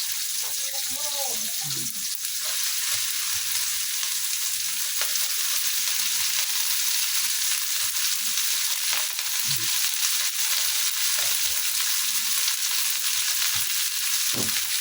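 Chopped cabbage is stir-fried in a pan, mixed with egg, a steady close sizzle with intermittent scraping and stirring, and a voice murmurs briefly underneath.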